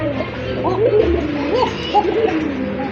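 Pigeons at a pigeon market, including a pair of Koka pigeons, cooing repeatedly in rolling, overlapping calls over a steady background murmur.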